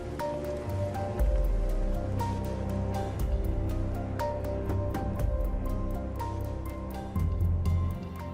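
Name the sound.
rain falling in the distance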